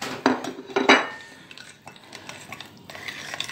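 A utensil clinks against a bowl while mixing Lebanese chicken marinade spices with sumac powder, a few sharp close taps early on, then softer scraping and stirring sounds, no talking.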